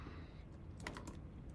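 Typing on a computer keyboard while setting up router network definitions, a quiet run of soft, irregular key clicks with a few sharper taps, no talking.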